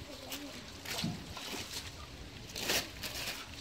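Water sloshes and splashes in a small basin as tender mangoes are rinsed by hand, soft intermittent splashes heard close up and fairly quietly.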